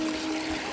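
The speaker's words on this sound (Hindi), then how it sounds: "देखिए ऊपर से आ रहा है, गिर रहा है, पत्थरों से गिर गिर के आ रहा है।" Mountain spring water falls and splashes over stones in a steady, dense rush, close and loud with no voices.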